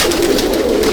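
Cooing of domestic pigeons in a Kolkata loft housing silver pigeons, a continuous low warble up close that never breaks, alone without any voices.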